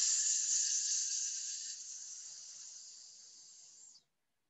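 A person blows out one long, steady hiss of breath in imitation of a snake, loud at the start and slowly fading over about four seconds before cutting off into silence.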